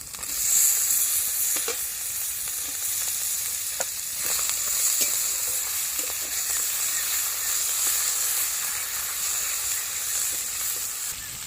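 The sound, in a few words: chopped tomatoes frying and stirred in spices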